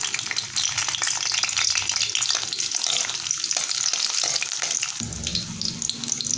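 Garlic fries in oil in a small pan, a loud, close, crackling sizzle that runs throughout, with stirring scrapes and a lower rumble near the end.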